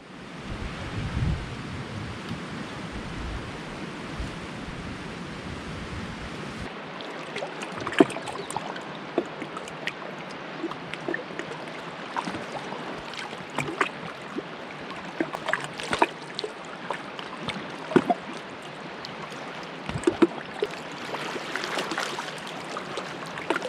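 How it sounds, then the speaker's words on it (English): Rapids on the French River's Old Voyageur Channel rush in the distance at a campsite, a steady broadband roar of white water, interrupted partway by close rustling and knocking handling noises. "listening to these rapids, the white noise, is perfect"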